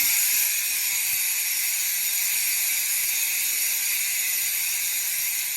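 Rapid, steady ratchet clicking from an E*Thirteen LG1R freewheel hub on a 2019 Evil Offering mountain bike, a continuous bright buzz of pawls spinning close up with no talk.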